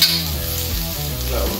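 Garlic sizzles in a hot pan of frying rice, a loud continuous crackling hiss close up, with stirring and scraping over the top.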